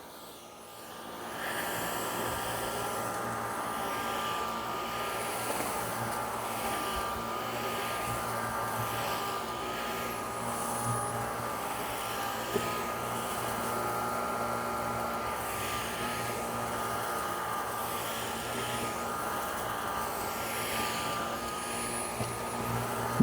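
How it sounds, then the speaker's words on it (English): A Dyson V16 Piston Animal cordless vacuum runs steadily with a whirring motor hum, its suction level rising and falling slightly as it works, loud and close with no talking. "You can hear that suction going up and down."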